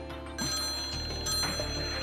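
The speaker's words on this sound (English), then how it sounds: "You know it's a phone?" A telephone rings inside the Trauma Team video game, a short electronic ring burst repeating over a quiet background hum, with no talk.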